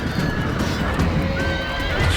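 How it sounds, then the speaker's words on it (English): Cavalry horses scream and whinny amid a Rome: Total War battle between Carthage and Macedon, with several shrill neighs rising over dense, continuous combat noise and hoof clatter. "You hear the cavalry horses screaming"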